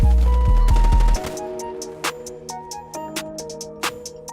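Gunfire in Black Ops 3, shotgun blasts among several sharp reports: a loud burst of rapid shots up front, then spaced, fainter shots over a low hum, with no talk.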